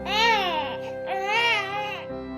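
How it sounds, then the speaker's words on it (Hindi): A newborn baby in a cartoon cries loudly and close, two long wailing bursts with a brief catch of breath between them. "कमरे के अंदर से बच्चे की रोने की आवाज आती है"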